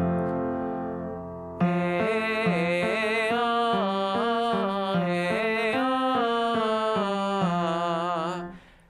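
A baritone sings a slow vocal warm-up exercise in thirds on an open 'ah', one sustained voice with gentle vibrato stepping steadily through a rising and falling pattern of notes, alone and fairly close.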